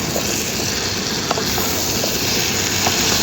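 Carrots stir-fried in a pan, a steady loud close sizzle with occasional light stirring clicks, no talk.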